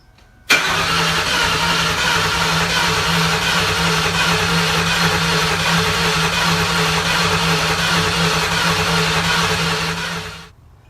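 The engine of a 2001 Ford Mustang GT cranks continuously for about ten seconds without catching, a steady loud whirring drone that cuts in abruptly and then stops, with no voices over it.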